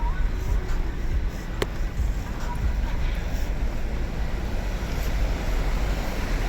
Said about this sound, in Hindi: उस साइड नदी का बहाव भी शुरू है।